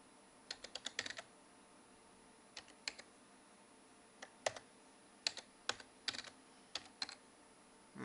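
Keys tapped on a computer keyboard while entering an administrator password during a Windows XP SP3 installation: sparse, uneven bursts of crisp, close clicks with short pauses, no talking.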